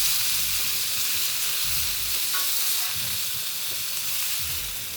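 A steak, already reverse-seared in the oven, sears in a hot pan with a loud, steady, close sizzle and spitting crackle that carries on without a break, no voices.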